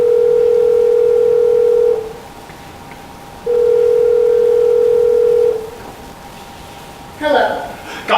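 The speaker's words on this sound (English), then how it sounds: "Just start dialing. And don't stop dialing until you find her." A telephone dial tone sounds loud and steady, cutting off after about two seconds, then returning for another two-second stretch before stopping again, with a brief burst of higher tones near the end.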